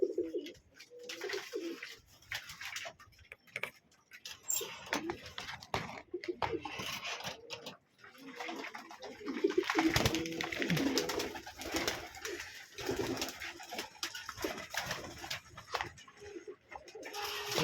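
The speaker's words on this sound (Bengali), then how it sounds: "এই যে আমার রেসার কবুতরগুলো" Racing pigeons coo softly while pecking at grit in a loft, low murmuring coos and faint scratching and rustling at a distance, fairly quiet throughout.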